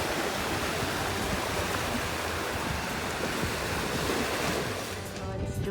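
Sea water gushing out of rocks at low tide on Marble Island, a steady, loud rushing wash of water that stays close and constant throughout, with wind noise on the microphone.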